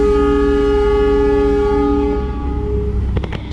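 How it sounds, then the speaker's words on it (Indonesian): A passenger train's horn gives signal 35 as an extra economy service built in 2007 leaves Pasar Senen station: one long, loud, steady horn blast that holds for about three seconds and then cuts off, followed by a few clanks. "Semboyan 35-nya udah dibunyikan."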